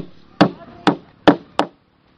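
Hammer blows during construction of a basketball court, four sharp separate strikes with short gaps, close and distinct against a quiet background.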